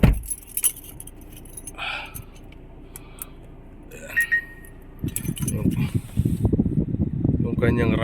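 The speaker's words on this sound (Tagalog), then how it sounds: "Susi po ito." Car keys to a Hyundai Tucson jangling and clinking inside the vehicle in short metallic bursts, close by, with people talking and faint background noise.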